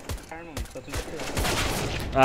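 Bursts of rapid gunfire crackle in quick succession in a CS:GO competitive match shootout, several sharp volleys, a voice briefly audible underneath.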